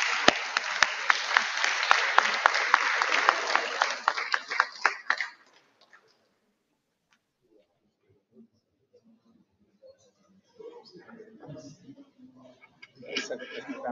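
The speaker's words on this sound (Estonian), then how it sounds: "teeme sulle veel ühe suure aplausi" A big round of audience applause at a talk rings out for several seconds, then dies away into near silence before a voice begins speaking.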